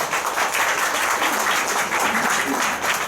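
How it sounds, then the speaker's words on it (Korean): An audience at a company and product lecture in Korea applauds steadily, a dense wash of clapping with no pauses. "큰 박수로 저와 부탁드리겠습니다"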